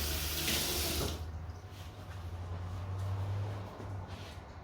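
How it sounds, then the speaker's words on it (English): Tap water runs into a sink during handwashing, a close, steady splashing rush that eases off slightly toward the end, with no talk. "I'll just wash my hands"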